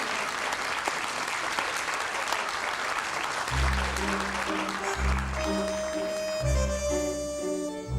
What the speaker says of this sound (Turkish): Evet 21 numaralı çift Bülent Ziya Gül Nihal Ziya Gül çiftini alkışlıyoruz